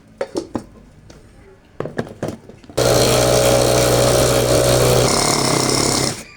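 A few clinks and knocks of handling kitchenware, then an electric chopper grinding spices and lemongrass with a little water roars loudly for about three seconds, its motor pitch shifting before stopping.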